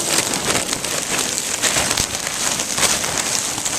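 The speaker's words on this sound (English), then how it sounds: "I'm out here in a hailstorm" Hail pelts down during a hailstorm beside a bike, a dense, continuous patter and clatter of ice striking surfaces, loud and close with no voices.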